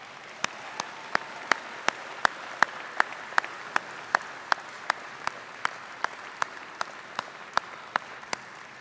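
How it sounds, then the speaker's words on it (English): Sparse clapping at an engineering faculty convocation ceremony: sharp, evenly spaced single claps ring out one after another over a quiet room background. "I'd like you to join me in a round of applause for those who have supported you"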